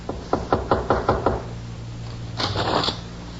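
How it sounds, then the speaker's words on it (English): Six quick knocks rap on a bedroom door in an old-time radio crime drama, loud and close in a steady run, followed by a short shuffling rustle. "he stumbled to the door of Joy's room and knocked"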